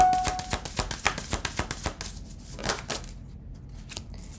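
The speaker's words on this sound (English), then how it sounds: "So let's shuffle." Oracle cards are shuffled by hand in a quick run of crisp, papery riffles and flicks, most dense at the start, then thinning to scattered soft slaps and rustles near the end.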